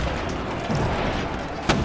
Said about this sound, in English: from the other ships, you hear muffled explosions.